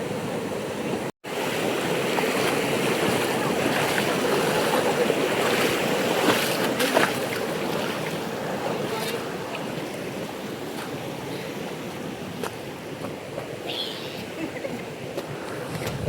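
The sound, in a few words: wading into waterfall stream water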